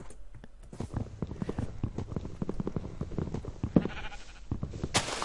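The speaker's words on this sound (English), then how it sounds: "Sheep, get out of the tree." Sheep in the video game Minecraft bleat amid a busy run of hooved clip-clop footsteps, with repeated short animal calls layered over the steady trotting, fairly close and moderately loud.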